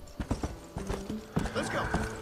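Horse hooves clip-clop in a quick run of close, distinct steps in Red Dead Redemption, with a neigh or whinny rising near the end, all under someone talking.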